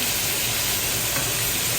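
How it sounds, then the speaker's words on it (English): Cube steak coated in buttermilk and flour, salt and pepper fries in a pan with a steady, dense sizzling hiss that stays loud and even throughout. "now we are frying it up"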